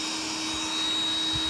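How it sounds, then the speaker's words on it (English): An iRobot Roomba 900 vacuum motor runs during a diagnostic test, making a steady, fairly quiet whine and hum with a high tonal whistle. No voice is heard. "So it's gonna run the vacuum to make sure everything is correct."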